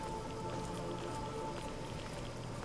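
Steady, dense rain pours in the Fallout: New Vegas wasteland at night, a constant close hiss of drops hitting the ground with no voices over it.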